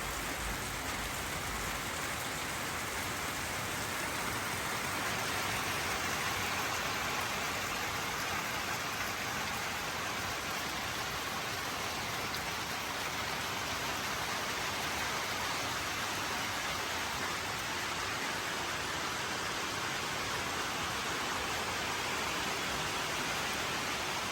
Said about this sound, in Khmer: ភ្លៀងធ្លាក់ខ្លាំងពេក